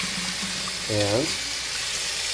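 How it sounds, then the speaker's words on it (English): Water running from a Moen kitchen faucet fitted with a new 1125 cartridge, a steady broadband hiss of flow near the tap, with a brief spoken word over it. "Turn the water on. All right, water is on."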